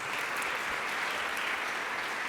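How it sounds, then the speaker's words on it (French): Steady, dense applause from a gala audience honoring François Renaud, president of the board of the CQA, at an entrepreneurship awards evening in Montreal; continuous clapping with no pauses, loud and close, no talking over it. "On applaudit François."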